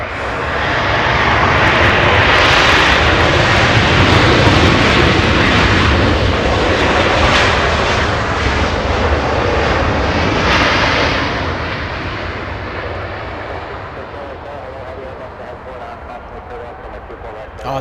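Swiss heavy jet airliner taking off from a runway at Los Angeles International Airport, a loud sustained engine roar that builds, holds steady for many seconds, then slowly fades into the distance.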